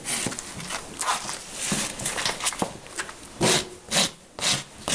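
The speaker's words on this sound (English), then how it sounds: "then I'll go over, rasp the quarters" A barefoot farrier rasps a horse's hoof during a trim, working heels and quarters with a series of gritty scraping strokes, close and fairly loud, the bursts growing longer and stronger toward the end.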